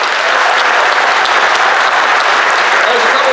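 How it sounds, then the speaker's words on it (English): A rally crowd at a taxpayer protest event in Illinois gives a loud, dense round of applause that carries on unbroken for a few seconds. "So ladies and gentlemen, let's give them a round of applause."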